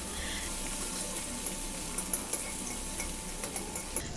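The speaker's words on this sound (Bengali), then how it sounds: "এরপর এর মধ্যে 5 টেবিল চামচ পেঁয়াজ কুচি দিয়ে দিলাম" Chopped onions sizzle in hot oil in a pan, a steady close crackle with light ticking spatters and scraping toward the end, no talk.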